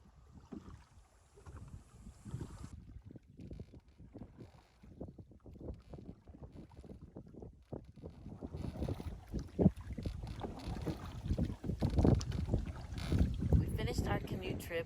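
A canoe moves on the river in Santa Elena Canyon, Big Bend, Terlingua, Texas. Irregular paddle splashes and water knocks sound close by, under gusty wind buffeting the microphone, growing louder and busier toward the end.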